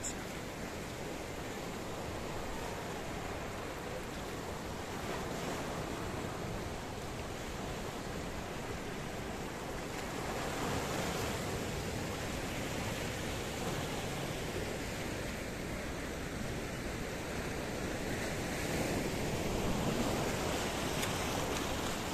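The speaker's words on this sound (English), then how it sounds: "I want to show you the view as the shoreline gets lapped by the beautiful, beautiful Mediterranean Sea" Mediterranean Sea waves washing against a rocky shoreline in Paphos, Cyprus, a soft continuous hiss of surf rising and falling gently, fairly faint and distant with some wind, no voices.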